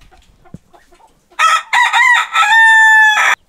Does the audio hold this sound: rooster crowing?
yes